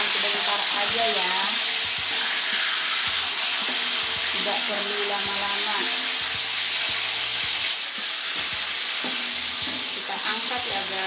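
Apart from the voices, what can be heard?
chili peppers frying and sizzling in oil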